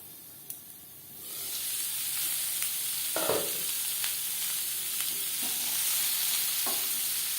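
Pointed gourd (potol) fries in oil over a low-to-medium gas flame, giving a steady, moderately loud hiss and sizzle with scattered pops and a few soft clicks and scrapes. No voices are heard.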